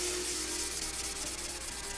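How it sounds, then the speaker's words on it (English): 1000-grit sandpaper rubs over a Yamaha FZ600 motorcycle fuel tank, a continuous close, even scratchy hiss with slight rhythmic strokes and no voices. "1000 grit is going to take a little time if you use 600 or rougher grit"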